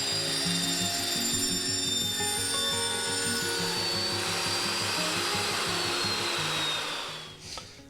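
Power tool cutting a 180-degree intake tube bend in half for a custom fuel-injected Corvair, a loud continuous whining grind with a rough buzzing texture that runs steadily for about seven seconds before tapering off.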